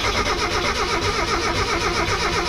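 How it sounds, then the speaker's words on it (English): A car engine cranks over with its fuel pump relay removed, a steady loud churning whir of the starter that continues without catching for the whole stretch, close up and with no voices. "Then just crank the car over for a few seconds."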